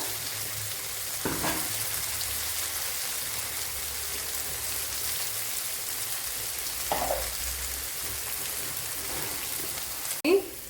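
Crushed garlic, ginger and green chili frying in oil in a pan for Kerala fish biryani, a steady soft sizzle throughout with a few brief clatters of stirring and a sharper knock near the end.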